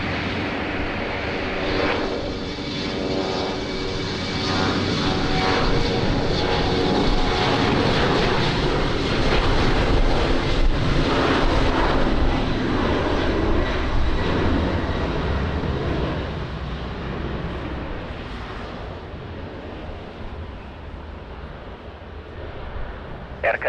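An Air Canada airliner approaches and lands at Lisbon Airport in the rain, a loud sustained broadband jet roar that swells toward the middle and slowly fades near the end, with no talking.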